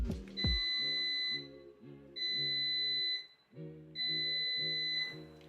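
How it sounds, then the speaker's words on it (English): A digital 8-in-1 air fryer sounds three long, high beeps with short pauses between them when preheating finishes, clear and close over a low, steady fan hum. "your air fryer will beep 3 times."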